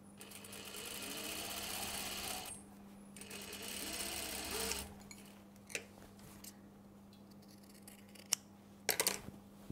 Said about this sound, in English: I need to stitch the facing to the lining face to face.